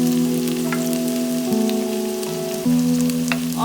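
Onion frying in a pan on a medium gas flame for Chinese-style chilli chicken, a continuous even sizzle beneath background music.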